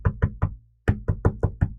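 Someone knocks by hand to imitate a flight attendant knocking on a cockpit door: three close, solid knocks, a short pause, then six quicker knocks in a steady rhythm.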